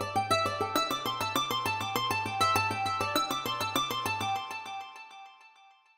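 A short composed musical leitmotif meant to depict rain plays alone, a rapid stream of bright, evenly spaced plucked notes over a steady low pulse, ringing out and fading to silence after about five seconds.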